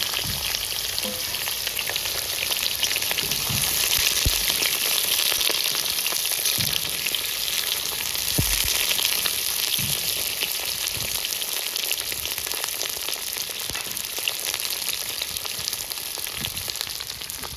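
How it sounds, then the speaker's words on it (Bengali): Pointed gourd pieces fry in hot oil with a loud, dense, unbroken crackling sizzle throughout, close by, with occasional faint knocks underneath. "প্রথমে আমি পটলগুলো সব ভেজে নেব।"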